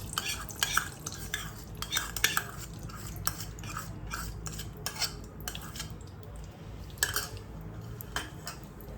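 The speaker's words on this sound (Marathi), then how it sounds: "आता उरलेलं तूप आपण सर्व टाकणार आहोत कढईमध्ये" Ghee in a kadhai being stirred with a metal spoon, repeated scraping and clinking strokes against the pan over a low, steady background, close and moderately loud.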